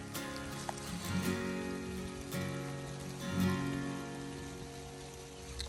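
Steady rain patters down throughout in Ohio woods, a dense wash of drops with a few louder splashes standing out now and then.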